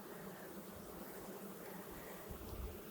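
Honeybees swarm and buzz around an open beehive during an inspection, a dense, steady drone filling the air at close range with no talking.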